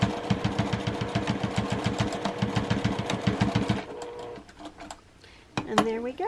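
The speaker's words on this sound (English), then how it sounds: "And I will back stitch it." A sewing machine backstitches a quilted rooster collage wall hanging, with a fast, steady run of mechanical stitching that slows and fades near the end, followed by a brief voice.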